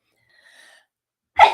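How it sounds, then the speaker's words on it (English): A single sharp, close sneeze bursts out after a faint, brief high tone and near silence. "I'm going to sneeze again."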